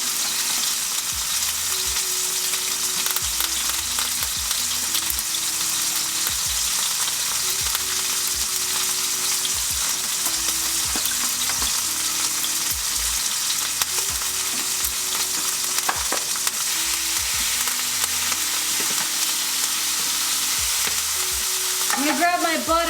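A steak frying in a hot pan with garlic and thyme, giving a loud, steady sizzle with occasional stirring and scraping, close and continuous.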